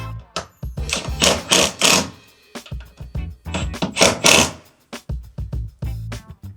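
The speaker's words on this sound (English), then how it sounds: "Next we're going to tighten down the large bolt on the bed of the truck." Bolts being tightened with a power tool on the bed of a third-generation Toyota Tundra truck: loud ratcheting bursts, about five closely spaced pulses, each roughly half a second, with short pauses between them.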